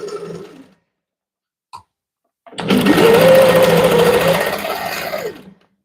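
A sewing machine runs a steady stitching burst for about three seconds while quilting in the ditch on a quilt, close and loud, after a short quiet stretch with a brief click.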